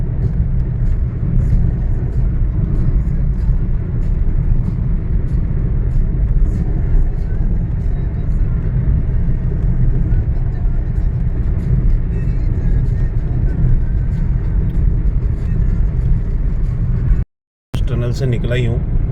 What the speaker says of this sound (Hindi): और 5वें गियर पे गाड़ी चल रही है भाई।